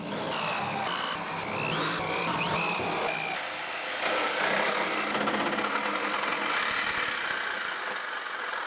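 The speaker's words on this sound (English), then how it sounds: "We're just going to drill out our spot welds, 1/8 inch bit, then our 5/16." A power drill bores out spot welds on a 1965 Mustang body, first with a 1/8 inch bit and then a 5/16, giving a steady, loud whine that holds throughout with no talk.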